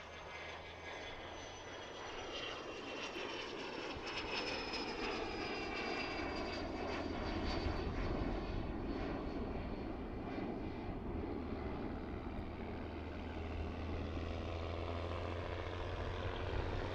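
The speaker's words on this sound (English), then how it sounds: "There's the Learjet. Taking off on 36 right." A Learjet taking off from runway 36 right at a busy cargo airport, a continuous distant jet roar building and holding, with a slowly falling whine, no voices.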